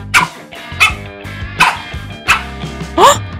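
A dog barks sharply five or six times in an evenly spaced series, loud and close, with some whiny, yelping tones to the barks.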